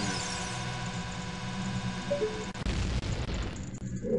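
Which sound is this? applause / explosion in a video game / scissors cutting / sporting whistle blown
explosion in a video game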